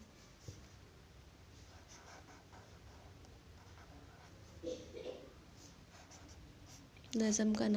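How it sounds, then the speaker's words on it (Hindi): Writing words on a board during an Urdu class for young students, faint steady marker or chalk strokes under a quiet room hum, with a brief louder scratch near the middle before a voice begins at the end. "अब हम इसके मुश्किल अल्फाज लिखेंगे"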